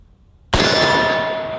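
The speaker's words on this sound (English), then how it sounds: "my very first time ever shooting the 50 Beowulf right here" A single sharp, loud report from a .50 Beowulf rifle after a quiet moment, ringing with a metallic clang that decays slowly.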